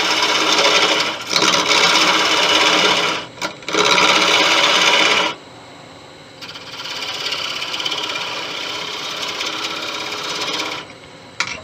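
A detail gouge cuts into spinning teak on a wood lathe, shaping the carrot nose of a 14-inch snowman; loud, rough scraping bursts give way to a steadier, quieter whirring of the turning piece.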